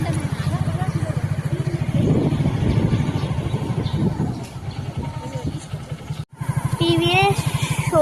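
A motorcycle rides through a town with its engine pulsing steadily close by. Traffic and street noise pass around it, people talk over the ride, and the sound cuts out briefly near the end.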